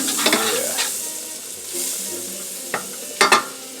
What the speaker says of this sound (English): Now I'm going to add a little bit more butter.